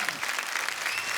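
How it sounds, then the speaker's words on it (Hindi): A studio audience on The Kapil Sharma Show comedy program claps in a dense, loud burst of applause, brief and continuous without any voices. "एक बार अर्चना जी के लिए जोरदार तालियां"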